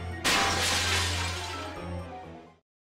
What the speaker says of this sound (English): They hear the sounds of objects being smashed and shouts that could be from rioters.